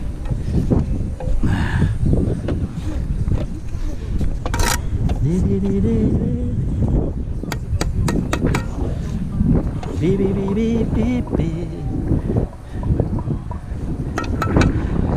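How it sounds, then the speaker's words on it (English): Strong, cold gusting wind buffets the microphone in heavy rumbling blasts during outdoor block-wall building, with occasional faint voices and clicks underneath. "It's damn windy and cold today."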